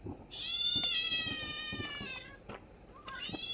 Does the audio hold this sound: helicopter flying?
no